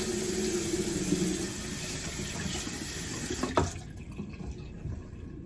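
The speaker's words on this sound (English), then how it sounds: "All right, so I'm gonna wash my hands first." Hands being washed under a running tap, a steady, close rush of water that stops abruptly partway through, leaving quiet room tone.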